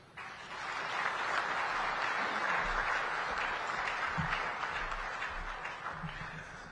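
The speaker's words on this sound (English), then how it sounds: "Another round of applause" Sustained applause from a summit audience of heads of state and government, steady and dense clapping filling the whole stretch before gradually thinning toward the end.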